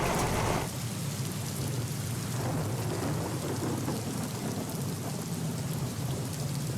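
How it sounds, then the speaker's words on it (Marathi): Heavy monsoon rain pours down in Dadar, Mumbai as a dense, steady roar of rain on surfaces, with a deep thunder rumble at the start and no talking. "मुंबईच्या उपनगरामध्ये मुसळधार पाऊस पडतोय आपण पाहू शकतोय।"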